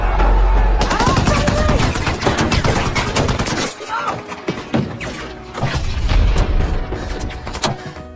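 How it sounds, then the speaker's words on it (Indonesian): Gunfire erupts in a film battle scene at an American outpost under Taliban attack, with loud, dense bursts of rapid shots and heavy impacts crowding together, briefly easing before another volley. "baku tembak pun meletus"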